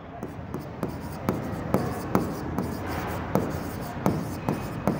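Marker or chalk writing on a board during a commerce accounts lesson: a steady run of short scratchy strokes and taps, close and fairly loud, with no talk over it.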